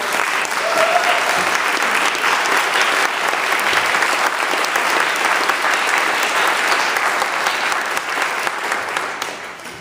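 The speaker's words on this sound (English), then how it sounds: "A round of applause for your Vestry." Steady, dense applause fills a church gathering as the vestry members stand, loud and sustained without a break.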